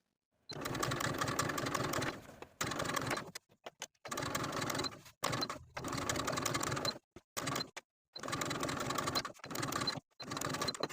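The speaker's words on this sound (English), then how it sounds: "Then we're going to edge stitch close to that loose folded edge of the bias tape all the way around." A sewing machine edge stitches close to the folded edge of bias tape, running in a series of bursts of steady whirring stitching broken by short pauses, loud and close with no talk.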